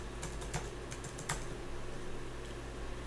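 Keystrokes on a computer keyboard entering a username and password, heard as a few quick, light clicks in short bursts over a steady low hum, close by and fairly quiet, with no talking.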